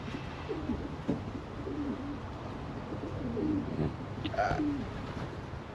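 Racing pigeons coo softly in their loft, several low rolling coos overlapping one after another, fairly close, with a faint background hiss and no talk.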